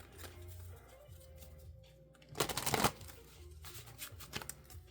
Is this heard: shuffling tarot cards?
yes